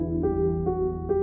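Sustained dark piano chords layered with a soft Ocean pad synth preset swell in three repeated stabs, each note ringing and blending into a wide, smooth wash.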